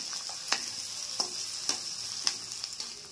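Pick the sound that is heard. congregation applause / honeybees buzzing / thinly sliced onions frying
thinly sliced onions frying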